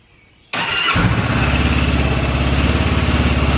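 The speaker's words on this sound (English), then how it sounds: "we're just going to let it run for a few minutes" A Honda NX500 motorcycle engine cranks and catches after a brief quiet moment, then settles into a loud, steady idle with a rapid, even pulsing rumble close by in a garage.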